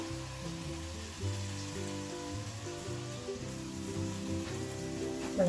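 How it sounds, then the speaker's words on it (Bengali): Shredded potatoes for jhuri aloo bhaja fry in hot oil with a steady, even crackling hiss throughout, and tonal background music running underneath. "এবার আমরা আরেক স্টেপ ভাজতে দেব।"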